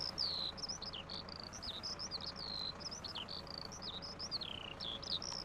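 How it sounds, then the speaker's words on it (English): Birds chirp nonstop in Farming Simulator 2019, a busy run of quick, repeated high tweets over a soft steady background hum of insects or crickets, close and fairly loud, with no voices. "That bird is going crazy, man."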